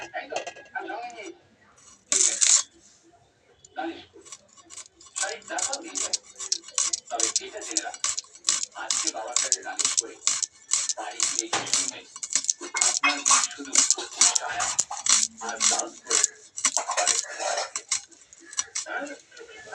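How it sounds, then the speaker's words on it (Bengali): An onion is cut on a board in a home kitchen, a long run of quick, close, crisp knife taps in an uneven rhythm with a few louder knocks, birds faintly in the background. "যে পেঁয়াজটা কেটে নেব"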